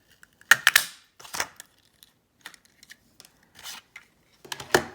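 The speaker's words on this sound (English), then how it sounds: "So I'm going to cut out this little mushroom" Scissors snip through paper in sharp, close clicks while cutting out a tiny paper mushroom for a journal tag, a few quick cuts at the start, scattered softer snips, then a final loud pair.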